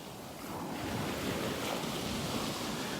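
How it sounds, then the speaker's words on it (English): Ocean surf on a North Naples, Florida beach, steady broadband wash of waves churning up sand, continuous and fairly close, with some wind across the microphone and no talking. "the water is really cloudy because of these waves just churning up the sand"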